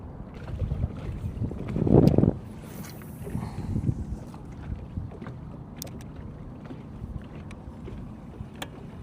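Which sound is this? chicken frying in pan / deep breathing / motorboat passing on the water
motorboat passing on the water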